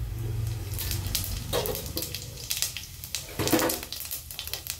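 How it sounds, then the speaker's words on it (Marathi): Cumin seeds crackling and sizzling in a small amount of hot oil in a kadhai on a gas stove, with irregular pops and bursts of sizzle close up, no voices. "जिरे चांगले तडतडले"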